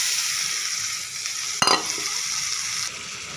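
Pigeon meat hits a pan of spice paste fried in oil with a sharp splash at the midpoint, followed by a continuous close sizzle and light stirring.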